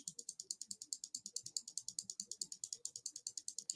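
Paper name slips tumble inside a spinning prize wheel at a crafting show, giving a fast, steady train of light rattling clicks close by, with no talking.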